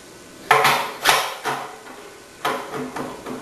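Plastic slicing disc being fitted onto a vegetable cutting machine, a few loud close clunks and knocks separated by short pauses, with no voices.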